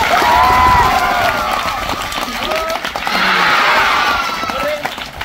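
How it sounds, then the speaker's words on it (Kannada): Audience at a children's magic show clapping loudly together, with shouts and cheers from the crowd running steadily through the burst of applause. "ಈಗ ಜೋರಾಗಿ ಒಂದು ಚಪ್ಪಾಳೆ ಹೊಡಿಬೇಕು"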